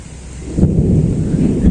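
Thunder rumbles through a rainstorm as a deep, loud, continuous roll that swells around the middle and holds steady to the end, with rain noise underneath.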